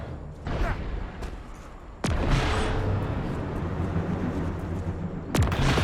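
Heavy cannon blasts in the Marvel's Avengers video game, Black Panther expansion: two loud, sharp booms about three seconds apart over a dense, rumbling battle din.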